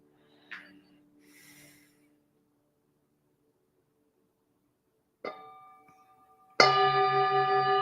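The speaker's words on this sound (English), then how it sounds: "let's invite the bell and take a few breaths together" A meditation bell is struck once after a few soft breaths and small rustles, then rings out loud and clear, its bright resonant tone sustaining steadily in a quiet room.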